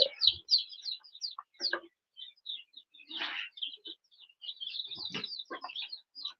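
Young birds chirp and peep in quick, scattered bursts inside a brooder box, high and close, with a few louder rustling flurries mixed in.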